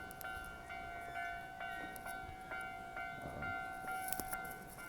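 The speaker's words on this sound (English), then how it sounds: "So I'm actually gonna show you guys the train that's coming up real quick." A train passes through a small station in Tokyo, with steady rail rumble and sustained tonal squeal or horn-like ringing, faint and somewhat distant, with no talking.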